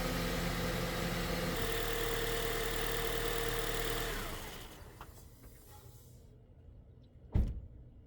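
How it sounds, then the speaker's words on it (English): A Honda Accord 2.4L engine idles with a steady low hum for about four seconds, then shuts down into quiet, followed by a single sharp clunk near the end. "make sure you start your car and let it run for 30 seconds to a minute"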